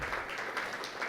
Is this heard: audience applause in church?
yes